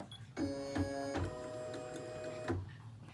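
Computerized sewing machine arm jerking and moving through its calibration before parking to the left, a mechanical whir with rhythmic clicks and a steady tone, quiet and close with no voices.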